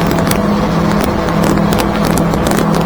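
Twin Yamaha F200 outboards on a 2023 Stabicraft 2750 Ultra Centrecab at wide open throttle, a loud continuous engine roar mixed with rushing wind and water noise, close and unbroken.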